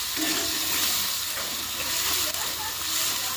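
A spice masala with tomato, onion and green chilli is stirred in a pan for a village-style potato and tomato curry, making a continuous close sizzle and hiss with soft scraping.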